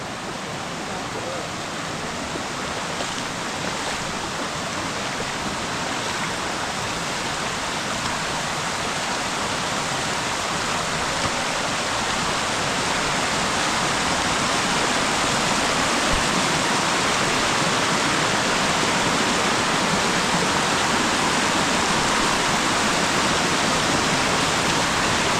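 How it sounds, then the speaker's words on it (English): A waterfall along a hiking trail roars in a steady, loud, broadband rush of falling water that fills the whole stretch without a break. "it looks like it's a really cool waterfall up there"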